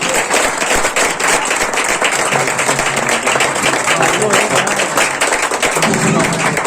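A church congregation at a Christian worship service clapping loudly for Jesus, dense sustained applause from many hands close by, with voices mixed in underneath.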